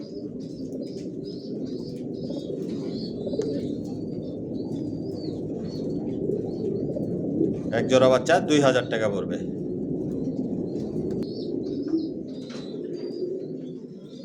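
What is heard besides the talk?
racer pigeons cooing in a loft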